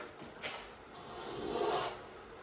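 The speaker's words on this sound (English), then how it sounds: "let's do some scraping" Scraper dragging softened paint off a surface after paint stripper has been applied, a faint close rasping scrape in a couple of strokes, alone.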